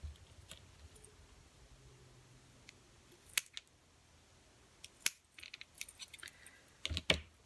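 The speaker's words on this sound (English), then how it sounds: "We're gonna take a foam tape and just cut a few pieces." Scissors snipping foam tape into small pieces for a handmade Christmas shopping-bag embellishment, with a few soft, scattered cuts and light handling clicks, close and quiet.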